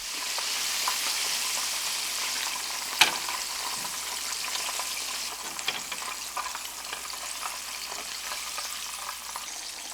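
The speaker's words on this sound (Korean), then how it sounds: "두 번 튀기면 더 바삭해지는데 처음엔 7분 동안 튀겨서 건져내고" Steady, crackling sizzle of chicken deep-frying in hot oil during the first fry, continuous and close, with a brief sharp pop early on.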